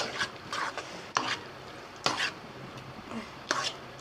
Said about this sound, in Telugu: హై టు మీడియంలో అడ్జస్ట్ చేసుకుంటూ వేయించుకోవాలండి